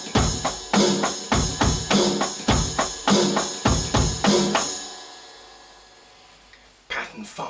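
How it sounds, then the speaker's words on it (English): A rock drum beat on ride cymbal, snare and bass drum in a steady pattern, loud and close, ending after about five seconds with a decaying cymbal wash and a final hit. "in pattern 4 we're playing the ride cymbal"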